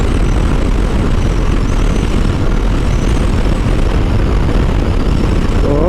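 A Royal Enfield Interceptor 650 motorcycle cruising at high speed, loud continuous wind roar buffeting over a steady engine drone, dense and unbroken without talk.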